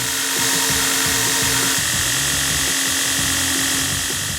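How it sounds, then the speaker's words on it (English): A loud, continuous mechanical whine and rasp of a belt grinder working a forged 80CrV2 steel knife blade, holding steady with slight shifts in pitch throughout. "we're ready to take it over to the belt grinder"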